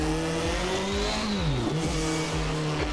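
A Toleman T184 turbocharged Formula One car in Assetto Corsa, its engine loud and close, with pitch rising and falling through repeated rev sweeps and gear changes.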